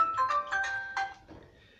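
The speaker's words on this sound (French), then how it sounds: "Excusez-moi, c'est mon téléphone qui sonne." A mobile phone ringtone plays indoors, a bright melodic electronic tune of a few quick notes that rings out clearly and then fades, with no talking over it.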